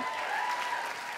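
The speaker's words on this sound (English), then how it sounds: "You might want to wait on the claps till you hear the whole story." Audience applause at a stand-up comedy special, a short burst of dense clapping from a crowd, steady and fairly loud throughout.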